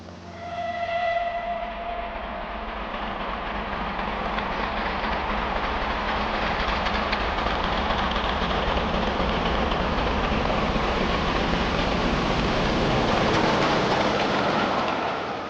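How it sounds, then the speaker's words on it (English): Steam locomotive Taw Valley toils uphill from Petersfield towards Burton Tunnel, a loud continuous chuffing roar with heavy rumble, sustained and close throughout, with no voices. "here the locomotive toils uphill from Petersfield towards Burton Tunnel"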